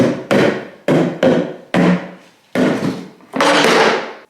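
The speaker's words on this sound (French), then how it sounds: "écoute, je vais taper" Seven separate hard knocks on a wall panel being test-fitted in a child's bedroom, each a sharp hollow wooden thud with a short ringing decay, spaced unevenly and close by.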